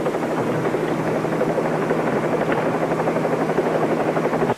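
A helicopter flies in a Whirlybirds radio drama sound effect, its rotor drone loud, steady and close for the whole stretch with no talking.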